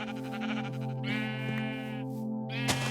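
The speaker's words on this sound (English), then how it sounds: "Let's get a few more sheep here." Sheep in the Lord of the Rings Minecraft mod bleat in two long, wavering calls, loud and close, over a steady droning hum, ending with a sharp click.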